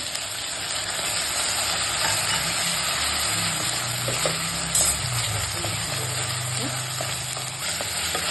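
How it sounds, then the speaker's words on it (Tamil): Ginger and garlic frying with chopped small shallots in a pan for a village-style country chicken fry, a loud, steady sizzle with faint stirring scrapes and a few clinks, no voices. "இப்போ இஞ்சி பூண்டு ஆட் பண்ணிக்கலாம்"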